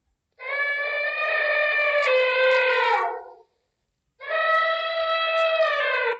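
Elephant trumpeting in a devotional Bhagavad Gita battlefield scene: two long, loud, brassy harmonic blasts, the first about three seconds and the second about two, separated by a short silence, with no talk over them.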